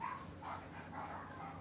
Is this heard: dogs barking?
yes